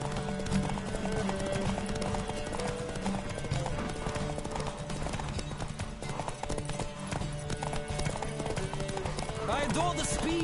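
Rapid rhythmic hoofbeats of a galloping horse in The Witcher 3: Wild Hunt pound steadily throughout, with busy game music and effects layered over them.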